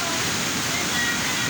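A constant, full roar of flowing water from the upper Bauruco river in a coastal area, steady and close with no breaks.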